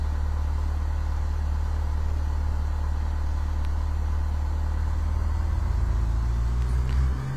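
A Cessna 172 piston engine in the FSX flight simulator drones steadily and loudly at takeoff power, a continuous low hum that rises slightly in pitch near the end.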